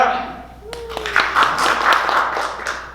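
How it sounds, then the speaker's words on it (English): Audience applause for performers at a Valentine's Day special show, a burst of clapping and cheering that rises after a spoken voice and carries on steadily, fairly close and full. "give her a round of applause"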